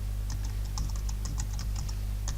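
Typing a folder name on a computer keyboard: a quick run of light, clicky keystrokes at an uneven pace over a steady low hum, close by, with no talk.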